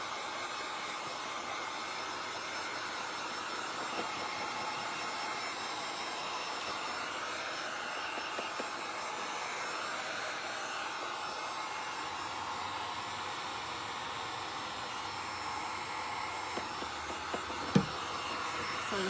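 A hair dryer blows steadily at close range to dry freshly painted polka dots on a door hanger. Its broadband whoosh runs unbroken for the whole stretch, with one brief tap near the end.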